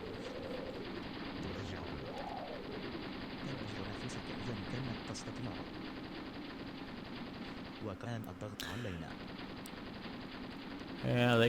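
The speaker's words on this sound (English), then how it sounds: "they can shoot into the side of the hill all they want" Gunfire in the tank-combat video game Graviteam Tactics: Shield of the Prophet, a steady distant rattle of machine-gun bursts running throughout, with faint voices mixed underneath and a sharper, louder burst near the end.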